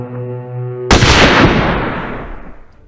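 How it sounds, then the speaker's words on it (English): Gunfire in a battle with British troops near Castle Barracks, a single loud close blast after a sustained tone, with a long rumbling decay trailing off over two seconds. "The sound of gunfire broke out again."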